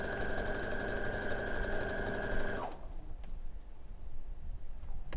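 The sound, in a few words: sewing machine chain piecing quilt units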